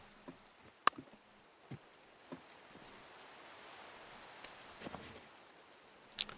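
Soft steady rain falls in a Minecraft-style survival game world, a quiet even hiss with occasional small clicks and taps scattered throughout.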